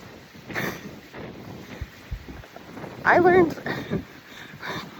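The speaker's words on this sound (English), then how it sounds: "I learned it's really windy right now" Gusty wind buffets the microphone, a low rumbling roar that rises and falls, with a voice speaking faintly underneath.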